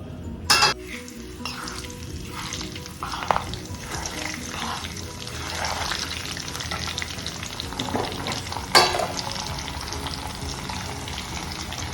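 Garlic and curry leaves frying in hot oil for a pickle, a soft steady sizzle broken by a few sharp clinks of a utensil against the pan and brief stirring sounds.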